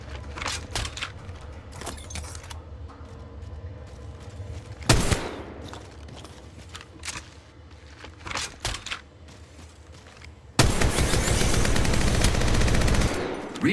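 Automatic gunfire in the mobile battle royale game Apex Legends Mobile: scattered bursts of shots over a busy game soundscape, a sharp blast near the middle, then a long sustained loud barrage of rapid fire to the end.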